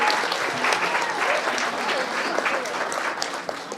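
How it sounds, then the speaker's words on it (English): Sustained audience applause fills the hall for uniformed servicemen and women at a United States presidential event, steady and dense throughout with no break. "give a round of applause to all the servicemen and women who are with us here today"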